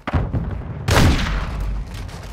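A grenade explodes in the Call of Duty: Modern Warfare II multiplayer beta, a sudden loud, close boom that rumbles briefly amid background battle noise.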